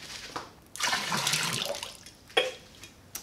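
Water is poured in short bursts while a bird-feeder sugar-water recipe is made indoors. The main pour is a splashy stream lasting about a second, followed by a few brief drips and splashes.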